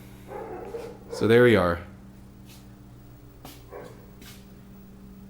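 A neighbour's dog barks next door, a few faint, distant yelps under a man's brief spoken remark and the low hum of a room.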